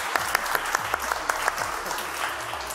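An audience at a family magic show claps in a short round of applause, some claps landing as distinct sharp hits over a murmuring crowd.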